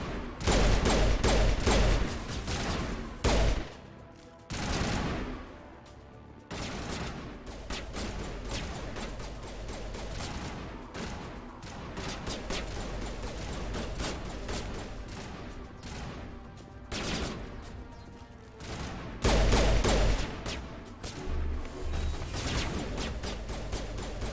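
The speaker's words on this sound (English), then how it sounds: "I can't tell where they are, they're just shooting." Video game gunfire from a Mass Effect shootout rattles on in rapid, sustained bursts and volleys, dense and continuous with occasional heavier blasts.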